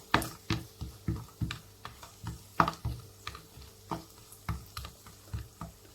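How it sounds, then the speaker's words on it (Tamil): Cashews and raisins frying in ghee in a pan, a soft sizzle broken by regular stirring taps and scrapes of a spoon against the pan, close up, with no talking. "நல்லா பொன்னிறமாக வர வரைக்கும் இதை ஃப்ரை பண்ணி எடுத்துக்கணும் நெய்யில்"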